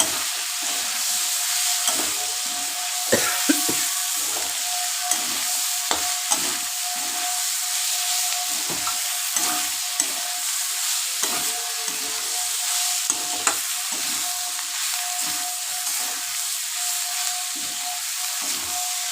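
Capsicum stir-fries with chicken in a hot pan under a steady sizzling hiss. Rapid, regular spatula scrapes and stirs sound close and continuous throughout, with no talking.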